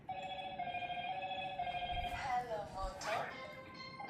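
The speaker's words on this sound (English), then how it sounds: "Haven't heard that ringtone in a long time." An old-style telephone ringtone repeats in steady electronic tones, fairly quiet, with brief bursts of other noise cutting in near the end.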